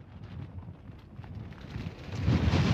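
Low, rumbling wind with gusts up to 137 km/h buffets the microphone, building steadily louder toward the end with no voices.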